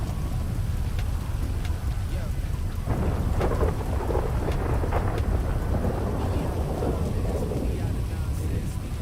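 Heavy rain pours steadily while rumbling thunder rolls underneath, swelling in the middle and easing off, with no speech, in the video game Grand RP.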